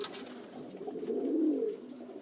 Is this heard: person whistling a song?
no